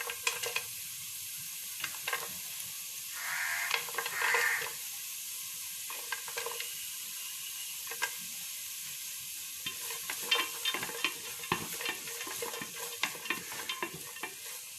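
Green beans and strips of carrot stir-fry in a hot pan, a constant sizzle broken by frequent scrapes and clacks of the spatula. The sound is close and busy, with no talking.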